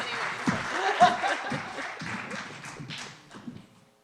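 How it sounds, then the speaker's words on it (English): Scattered audience applause greets a speaker taking the stage at a talk, fairly light and uneven clapping mixed with murmurs and a little laughter, fading out toward the end. "Please give her a big round of applause."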